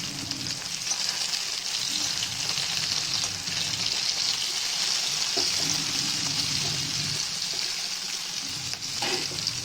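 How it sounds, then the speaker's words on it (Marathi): Garlic cloves fry with tomatoes in a hot pan for a village-style chutney, giving a steady, close sizzle that holds its level throughout, with faint stirring and scraping near the end and no talking. "त्याच्यासोबत लसूण पण फ्राय करायला ठेवायचं."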